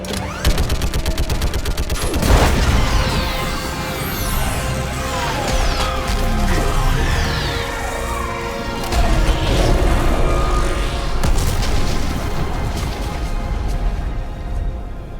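Rapid gunfire and heavy explosions fill a Mass Effect 3 space battle cutscene aboard a starship, a loud, dense and continuous barrage with sharp blasts and sweeping mechanical whooshes throughout.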